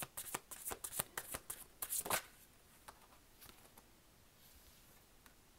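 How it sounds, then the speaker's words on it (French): Tarot cards shuffled and drawn at a reading: a quick run of crisp riffling flicks and slaps for about two seconds, then a few softer, sparser card snaps as cards are laid out, close and fairly quiet. "Je vais rajouter une carte pour vous, pour m'éclairer sur le choix."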